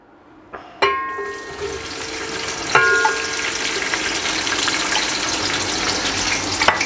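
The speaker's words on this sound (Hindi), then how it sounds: "अभी घी गर्म हो गया है तो मैं अभी इसमें शामिल करूँगा आधा किलो प्याज।" Half a kilo of onions tipped into hot ghee for beef haleem, a sudden loud sizzle that settles into steady crackling frying, with clinks of stirring and a second burst as more goes in.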